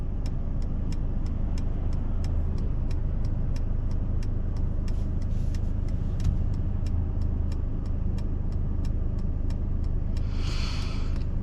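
A 2022 Mercedes E53 AMG coupe drives through a small downtown area, a steady low road and engine rumble filling the cabin throughout with faint ticking above it and a brief hiss near the end.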